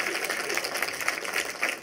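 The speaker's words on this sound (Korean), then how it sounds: "다시 한번, 우리 운동에 좋으니까 박수 한번 더 칠게요." Audience clapping at a floral decoration demonstration for a national skills competition, a dense, steady patter of many hands throughout, fairly close and without talk.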